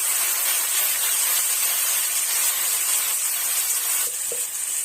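Boiled jackfruit sizzles steadily in a hot pan, a loud, continuous hiss of frying with a brief stir or clink near the end and no talking.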